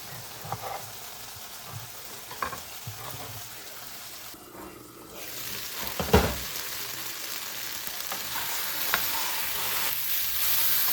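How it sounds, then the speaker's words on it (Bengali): Okra fries in a pan, giving a soft, steady sizzle with occasional stirring clatters and a louder burst of spitting midway. "ঢেঁড়সটা আমার ভাজা হয়ে গেছে"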